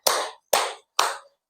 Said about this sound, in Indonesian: Nah, cluenya adalah tepuk.